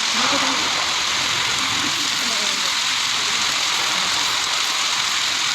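Steady broadband rain hiss in the Dead Rails video game, constant and fairly loud throughout, with faint voices murmuring beneath it.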